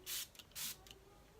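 Makeup setting spray hisses onto a face in two short bursts, each a soft airy pump lasting about a fifth of a second, close and fairly faint in a quiet room.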